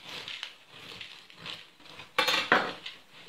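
A knife cuts a slice from a chocolate and walnut cozonac, with soft sawing scrapes and a few sharper clinks of the blade against a plate or board, close and fairly quiet, with no speech.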